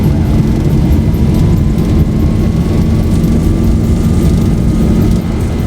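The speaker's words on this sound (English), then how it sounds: "Takeoff thrust set." Boeing 737-800 jet engines at takeoff thrust in the X-Plane flight simulator give a loud, steady, dense roar with a low rumble and a faint rising whine, unbroken for the whole stretch.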